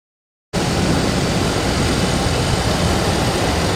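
A vehicle engine, just repaired by moving wires in the ignition, runs steadily after half a second of silence, a loud continuous rumbling drone with no talk.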